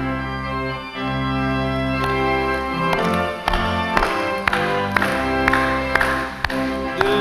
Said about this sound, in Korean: 박수하시면서